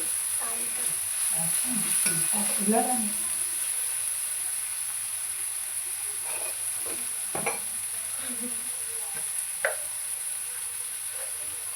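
Green chillies frying in a pan for street-style egg noodles, a faint steady sizzle with soft stirring scrapes and occasional light clicks of a spatula, quiet and continuous.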